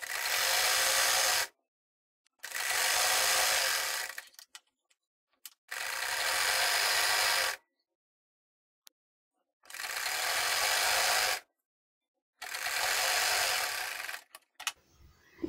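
An electric sewing machine stitches the sleeve of a round frock in five bursts of fast, steady whirring, each lasting one to two seconds, separated by brief silent pauses.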